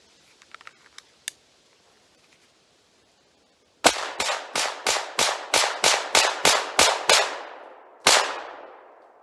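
A Taurus GX4 pistol fires a string of about eleven sharp, loud shots in quick rhythm, followed by one more shot after a short pause, preceded by a few faint metallic clicks of handling.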